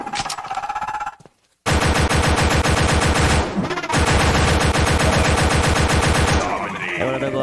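Sustained rapid machine gun fire in the Aliens Survival video game, long dense bursts broken by a brief silent gap and a short pause, loud and close.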